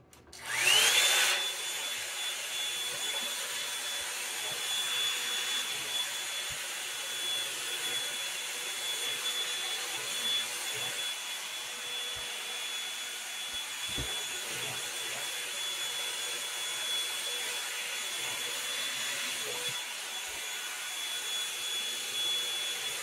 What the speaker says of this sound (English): But we're going to go ahead and blow dry this craziness.